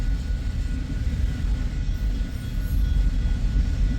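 An eastbound loaded autorack freight train rolls past, a steady low rumble of wheels and railcars holding constant throughout, with no voices.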